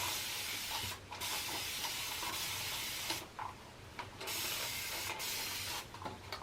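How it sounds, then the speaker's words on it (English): Several short hissing bursts of a spray bottle misting, separated by brief pauses, close to the microphone over a faint steady background hum. "I'm going to start off with spraying my hair with water."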